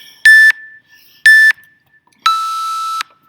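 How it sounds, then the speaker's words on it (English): Three loud electronic beeps from a Tabata interval timer: two short identical tones a second apart, then a longer lower-pitched beep, with silence between. "You're going to hear beeps"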